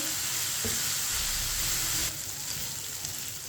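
Chicken pieces for chicken macaroni cooking in a pan while stirred with a spoon, giving a steady, close sizzle and frying hiss with one brief scrape early on and a slight drop in level partway through.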